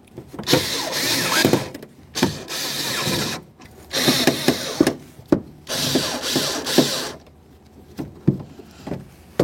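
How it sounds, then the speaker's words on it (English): A power tool drives three mounting bolts snug in a series of loud, close whirring bursts, each lasting a second or two and separated by brief pauses and clicks. "Once you have all 3 of those started in, go ahead and snug them up."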